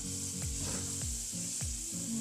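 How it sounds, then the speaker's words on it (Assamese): Onions frying in oil with a little sugar in a pressure cooker give a steady close sizzle, with faint scraping knocks now and then. "মই পিঁয়াজখিনি অলপ ভাজি ল'লোঁ"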